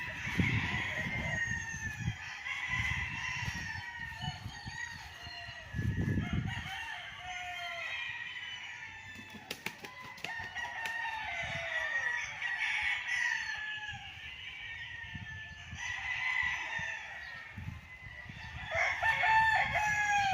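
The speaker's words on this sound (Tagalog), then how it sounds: "Ganda ng mga manok." Several roosters crow repeatedly, some near and some farther off, amid steady clucking and farmyard bird chatter throughout, on a farm lot in Liliw, Laguna.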